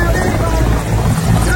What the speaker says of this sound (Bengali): মোদির হেলিকপ্টার উঠছে